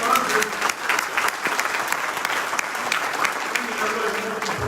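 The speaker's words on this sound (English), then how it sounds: "Nice round of applause for all of our sponsors." Guests at a business recognition awards dinner applauding the sponsors, a full, continuous round of clapping from a large room, close and steady, with faint voices underneath.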